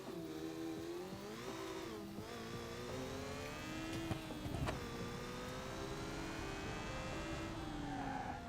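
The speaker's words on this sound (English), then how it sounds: "Rotary engine scooter." A rotary-engine scooter in the BeamNG.drive driving game runs at high revs with a sustained buzzing drone, its pitch rising and dipping as it accelerates, loud and close with no talk.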